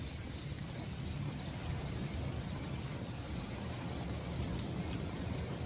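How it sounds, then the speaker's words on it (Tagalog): Steady rain falls in Akumal, Mexico, a dense even hiss of drops on surfaces that holds unbroken and moderately loud throughout, with no voices. "magantay na lang kayo ng ulan para maligo"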